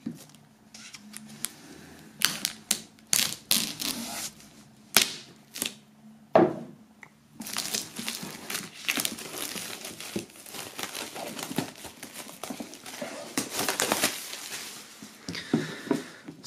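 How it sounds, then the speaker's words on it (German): Plastic shrink-wrap foil is peeled and torn off a boxed album set, giving close, crackling, crinkling rustles in irregular bursts that grow into a longer stretch of continuous crumpling. "wir werden mal die Folie abmachen und dann schauen wir uns das Ganze an"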